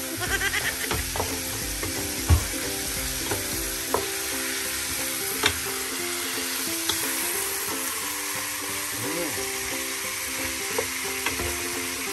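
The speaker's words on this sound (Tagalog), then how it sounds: "Halo ng halo. Para lang pong naghahalo ng semento." Chicken tinola ingredients stirred in a sizzling pot, with a steady frying hiss under scraping, clinking spoon strokes that come irregularly and close up.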